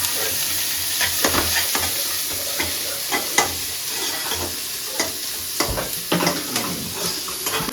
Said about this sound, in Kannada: ಇದು ಆನಿಯನ್ ಮತ್ತು ಚಿಲ್ಲಿ ಸ್ವಲ್ಪ ಫ್ರೈ ಮಾಡ್ಕೊಳ್ಳೋಣ